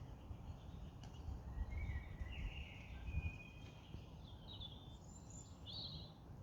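Birds chirp and sing faintly in the distance in an English outdoor setting, with scattered short calls over a low, steady background rumble.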